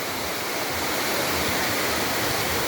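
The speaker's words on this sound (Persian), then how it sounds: "اینم آبشار بیشه." Bisheh waterfall roars in a steady, dense rush of falling water that holds at the same level from start to finish, with no voices over it.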